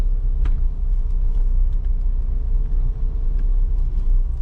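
A car pulling away in second gear as the clutch is released and throttle applied, driven barefoot; a steady low engine rumble, close and continuous, with no talk.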